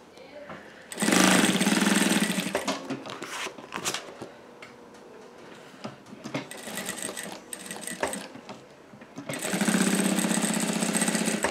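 Sewing machine fitted with a piping foot stitching cotton piping onto a clear plastic bag, running in fast steady bursts at the start and end, with quieter handling noises and a voice talking in between.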